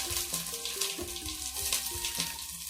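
Mustard seeds sizzling and crackling in hot oil while tempering for sambar, a steady bright frying hiss with faint melodic tones underneath.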